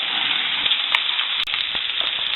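Melted bacon grease sizzling in a cast iron pan, a steady, close frying hiss that runs throughout with a few small pops and crackles, no voices over it.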